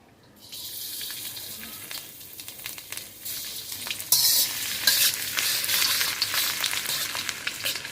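Chopped garlic and ginger hit hot oil for fried rice, a quiet background swelling into a loud, bright, crackling sizzle midway that keeps hissing strongly while stirring continues.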